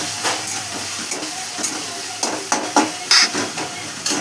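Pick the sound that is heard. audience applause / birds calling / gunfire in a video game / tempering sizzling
tempering sizzling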